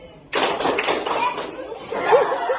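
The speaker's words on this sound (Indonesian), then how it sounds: "Tepuk tangan." Classroom of students clapping their hands together in a burst of applause, fairly close, with chatter and laughter mixed in.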